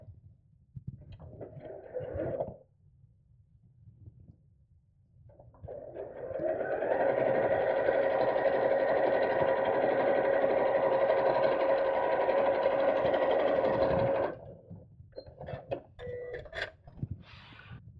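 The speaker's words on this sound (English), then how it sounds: "we'll sew those edges together, again matching the edge at the top" A domestic sewing machine stitches the edges of a fabric craft bag or purse organiser, one steady run of about eight seconds at an even pace, with quieter handling of the fabric before and after.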